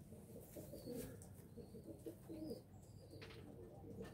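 White racing pigeons coo softly and repeatedly in low, throaty phrases, faint and close, with light background noise.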